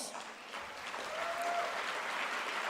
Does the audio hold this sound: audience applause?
yes